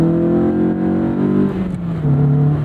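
Honda S2000 AP1 engine revving on a night drive, a steady loud harmonic drone rising in pitch, briefly dropping near the middle and then climbing again, with no talk over it.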